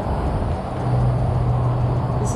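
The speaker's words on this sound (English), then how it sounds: "You can hear the cars also." Steady road traffic rumbles from cars passing near a land bridge over a bike trail on the Cross Florida Greenway, a continuous moderate wash of tire and engine noise with a low hum swelling slightly midway, no talking.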